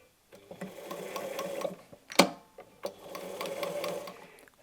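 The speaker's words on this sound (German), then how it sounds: "An unserer Nähmaschine nähen wir nun einmal diese Ecken fest" A domestic sewing machine stitches down the corners of a patchwork fabric basket in two steady, rapid bursts, split by a single sharp click near the middle. The machine runs alone and close, with no voices.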